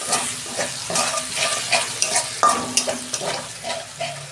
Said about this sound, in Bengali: আমি একটা টমেটো বেটে রেখেছিলাম,